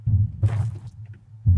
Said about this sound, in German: warum höre ich Herzklopfen? Das wird immer schneller.